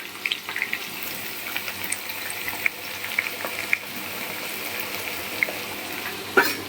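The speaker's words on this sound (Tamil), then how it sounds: "இந்த வெங்காயத்தை போட்டு இதுல பொரிக்கணும்." Onions sizzling in hot oil for biryani, a steady crackling hiss dotted with small pops and spits, fairly close and uninterrupted by talk.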